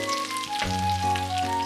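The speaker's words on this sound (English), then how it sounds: "It's also great to enjoy hot okonomiyaki while it's on the frying pan." Okonomiyaki sizzles on a frying pan, a soft, steady crackle in the background while a person speaks briefly over it.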